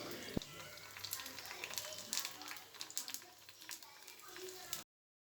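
Pani puri dough rounds fry in hot oil over low heat, giving a continuous crackling sizzle with fluctuating bubbly bursts, close up and moderately loud, then cutting off abruptly.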